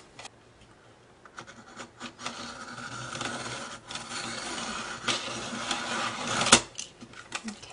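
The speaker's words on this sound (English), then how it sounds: "I'm going to be using this Martha Stewart Crafts circle cutter, and I'm going to be cutting some circles." A Martha Stewart Crafts circle cutter turns through a sheet of paper, giving a close, continuous scratchy rubbing that grows louder partway through and ends with a small sharp snap.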